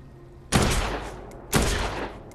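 Two sharp, loud gunshot bursts about a second apart from a weapon fired in the zombie game Dead Island 2, each decaying into a brief roar, with no voices.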